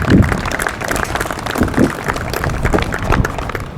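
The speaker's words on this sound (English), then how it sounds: "Let's give them a round of applause as well." Audience applause at a riverside groundbreaking ceremony, a steady wash of clapping from a crowd outdoors, moderately loud and continuous for a few seconds with no talking over it.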